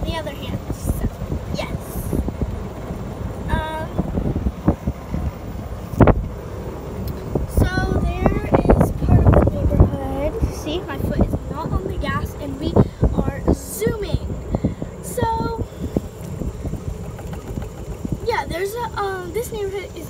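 A golf cart rides through a small neighborhood with steady wind buffeting the microphone, gusty rumbles rising and falling throughout, while a person talks over the noise.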